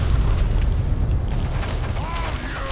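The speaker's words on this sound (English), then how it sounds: "I'm seeing massive explosions over here." Explosions in the video game Fallout 3: a continuous loud, low rumbling boom with booming bursts, heard alone without talk over it.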